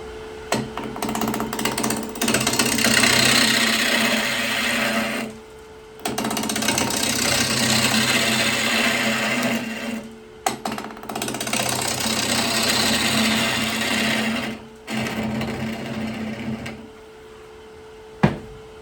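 A wood lathe turns a bowl at about 900 RPM, giving a steady hum with a constant tone. Several rougher stretches of tool cutting, each a few seconds long, are separated by short pauses, with a sharp knock near the end.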